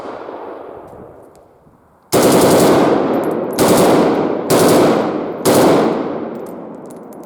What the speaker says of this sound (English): This is what the blank firing Kalashnikov is needed for, just for fun.